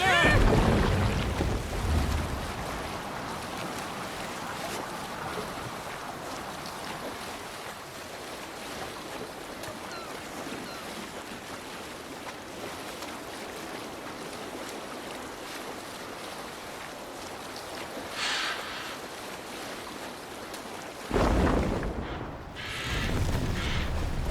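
A sailing ship moving across open water in Assassin's Creed Valhalla, with a steady wash of waves and wind running throughout and a louder surge of water near the end.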